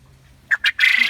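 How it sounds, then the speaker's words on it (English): A Coturnix quail rooster calling inside a quail tractor: two short, sharp squawks followed by a longer, harsh crowing burst, loud and close. "That was a rooster."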